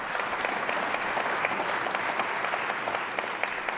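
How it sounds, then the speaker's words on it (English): Audience at a talk on the astronaut-selection engineer applauds warmly, a dense steady clapping that holds evenly through the moment without voices. "They're applauding me for sitting down."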